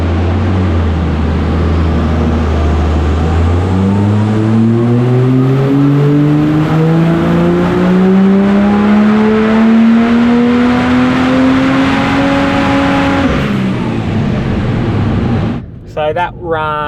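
A Nissan GU Patrol with a swapped Barra engine runs on a dyno, its loud engine note climbing steadily in pitch through a long full-throttle pull before abruptly dropping off near the end.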